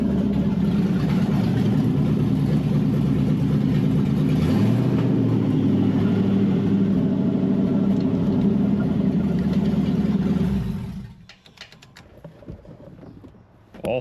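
Ford Mustang 5.0 V8 idling and running steadily while gears are tested, a loud continuous low engine rumble with a slight pitch rise midway, then cutting off abruptly, leaving faint clicks and quiet.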